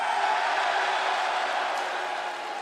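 Mixed crowd reaction at a live wrestling show in Rosenberg, Texas: a steady, dense wash of cheering and shouting voices holding at an even level for a few seconds before easing slightly.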